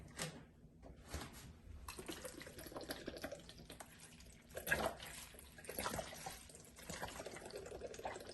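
Water runs from a tap to top up a pot for a tamarind, bissap and fresh mint syrup. The stream is a splashy, fluctuating flow that continues for several seconds in a kitchen, with no speech.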